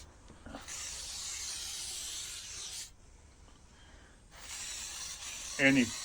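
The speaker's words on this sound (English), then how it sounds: "I'll start using some CRC here now, or WD-40" A steady hissing spray of penetrating oil onto a rusted Puch SR moped wheel runs for about two seconds, pauses, then starts again, with a brief rattling clatter near the end.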